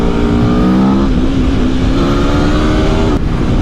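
A 2021 Aprilia Tuono V4 Factory naked bike being ridden, its engine revving in a loud, continuous harmonic drone that holds steady and then shifts pitch slightly near the end.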